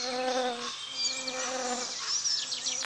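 A honeybee colony hums steadily at its hive in the Russian countryside, a close, continuous buzzing with individual bees whining past, with no one talking.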